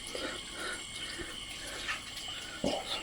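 Water runs steadily at a village water source in a hill settlement of stone houses, a soft continuous trickle with occasional faint drips and splashes.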